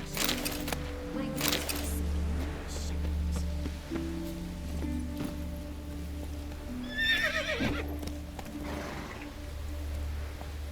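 Roach, a horse in The Witcher 3 video game, neighs over rhythmic galloping hoofbeats on a low, droning game soundtrack, and a loud whinny rises near the middle.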